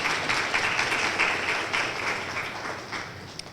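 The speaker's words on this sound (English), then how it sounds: "Why don't you give the President a round of applause?" An audience at a university scholars event applauds the President with dense, continuous clapping that stays fairly loud, then eases a little toward the end.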